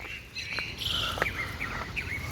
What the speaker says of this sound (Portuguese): Ó os passarinhos cantando.